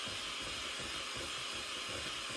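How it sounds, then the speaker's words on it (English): A handheld electric mixer beats sugar for a green grape salad, giving a steady, close, even whirring hiss that carries on unbroken with no talking. "We're going to actually mix it with my mixer"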